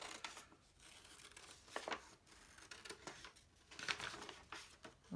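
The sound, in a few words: scissors cutting out a paper elephant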